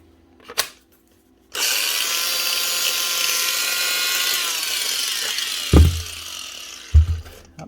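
A small Hitachi angle grinder on a repair bench spins up and runs with a steady, high, harsh whine, loud and close, then clunks twice as it is handled near the end.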